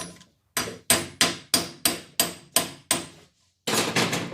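A socket hammered down to press a gear onto a drill shaft during repair: about eight sharp, evenly spaced metal blows close by, a short pause, then a final louder strike.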